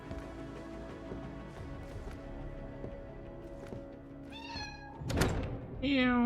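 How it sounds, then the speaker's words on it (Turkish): In the video game The Division, against a steady background hum, a couple of short cat meows sound near the end, after a soft thump. "Kedi sesini duyduk en son"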